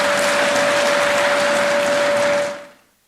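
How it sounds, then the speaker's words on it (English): A conference audience of primary school heads in Kenya claps in a dense, loud, continuous patter of applause that holds steady and then fades out quickly near the end, with a constant tone running underneath. "Please clap for yourself."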